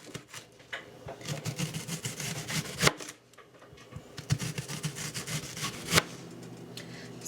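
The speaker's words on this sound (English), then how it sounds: "I have here 2 onions that I'm going to slice as well" Two onions sliced thinly with a knife on a board, rapid rhythmic chopping taps in two bursts separated by a short pause, close and fairly quiet without talking.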